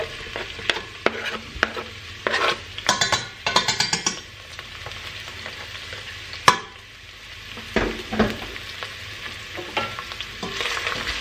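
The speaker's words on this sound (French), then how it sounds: "on va venir donc déposer un oignon qu'on a émincé dans la casserole" Sliced onion sizzles steadily in hot oil in a saucepan while a utensil stirs and scrapes the pan in quick clinks, close up and without voices.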